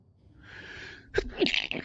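A single quiet sneeze, preceded by a short breathy intake, sounds close by.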